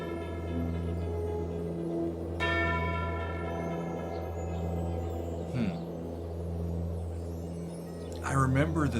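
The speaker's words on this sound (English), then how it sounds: "Tubular bell comes in." A tubular bell rings out in a rock piece, one bright struck note at about two and a half seconds that decays slowly over sustained low instrumental drones, with a second metallic strike near the end.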